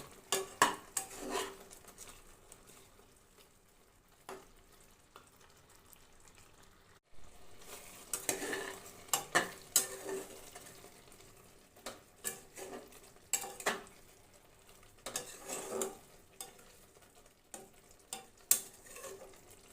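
A utensil stirs chicken korma in a pan, giving scattered scraping and clinking strokes over a low sizzle, close but fairly quiet, with pauses between bursts.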